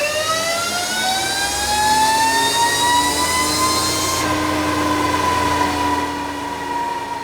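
A 125cc motorcycle screams at full throttle on a rear-wheel dynamometer, a loud sustained engine whine climbing steadily in pitch for several seconds before easing off, with no talking.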